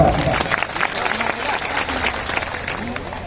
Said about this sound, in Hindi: आप लोगों के लिए जोरदार ताली बजा दीजिए